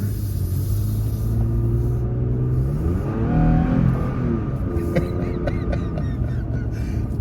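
An automatic Toyota Tacoma pickup truck accelerates hard, its deep engine rumble building and rising in pitch as it revs, loud and close throughout.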